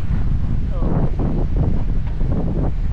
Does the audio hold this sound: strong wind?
yes